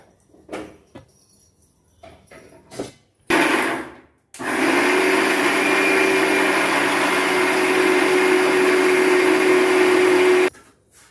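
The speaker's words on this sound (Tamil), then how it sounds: "கார சட்னி அரைச்சாச்சு" An electric mixer grinder grinds spicy chutney: a few short pulses first, then a loud, steady whirring motor run of about six seconds with a high whine, which cuts off abruptly.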